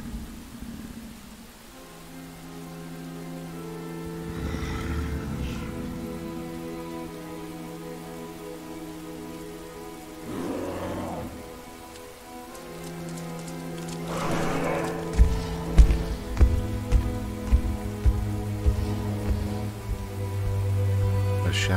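Rain falls steadily in the video game Rain, a soft wash under a gentle melodic music score that swells and thickens toward the end.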